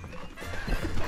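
A horse moves close by with a brief run of hoof clip-clops, short and fairly soft, with no talking over it.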